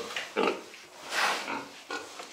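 Young piglets grunting close by, a handful of short nasal grunts and snorts in quick irregular bursts with quiet gaps between them, no voices over them.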